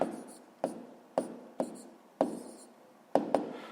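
Pen or chalk strokes during a sixth-grade math lesson, a series of about seven sharp, separate scratching taps with short decays, irregularly spaced and close, with no voice over them.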